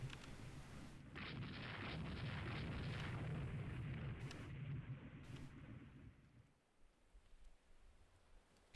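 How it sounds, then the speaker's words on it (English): Naval gunfire from a destroyer in the Rule the Waves 2 strategy game, a rumbling barrage of dull booms and crackling bursts lasting several seconds before dying away to near quiet, with no talking. "our destroyer is shooting at them"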